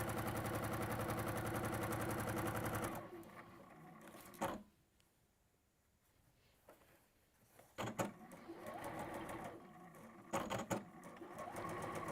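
A domestic sewing machine stitches backwards and forwards, a close, steady whirring run that stops, followed by quiet handling noises, then short bursts of stitching.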